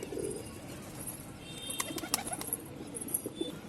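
A pigeon with an injured wing, a red pet bird, gives soft coos and a few faint chirps and rustles close by, over a steady low background hum.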